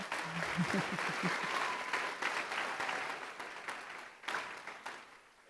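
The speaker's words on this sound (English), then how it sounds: "let's hear a round of applause for everybody that makes this happen" An audience at a youth arts festival in the Ford Community and Performing Arts Center, Dearborn, gives sustained applause, with steady massed clapping throughout that tapers slightly near the end, and a voice briefly heard at the start.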